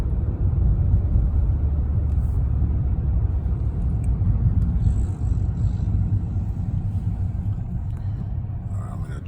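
Hyundai Veloster with manual transmission, engine revs hanging high after clutching in before slowly dropping, heard as a steady loud low rumble from inside the car with road noise and no clear rise or fall.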